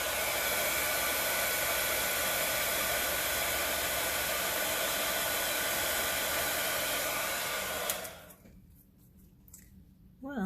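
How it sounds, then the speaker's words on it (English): A heat gun blows a loud, continuous hiss of hot air onto a small spot of resin, then shuts off, leaving quiet with a few faint handling sounds. "I'm going to take my heat gun on that real quick"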